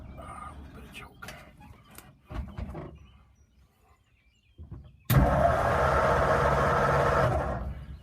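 A 1952 Ford F1 pickup with push-button start and choke turns over and fires after a few quiet cranking attempts, then settles into a loud, steady cold idle up close.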